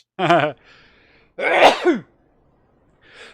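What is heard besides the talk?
sneeze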